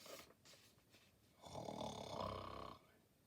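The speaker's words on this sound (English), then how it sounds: "Listen, Bruno is snoring." A bear snores in a single long, rumbling breath with a raspy, buzzing tone that swells and then fades, while the rest of the moment stays quiet.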